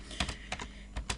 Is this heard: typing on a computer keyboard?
yes